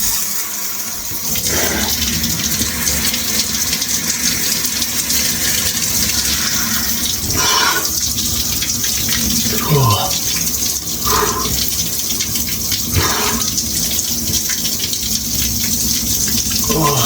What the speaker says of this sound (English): I'm gonna take a cold shower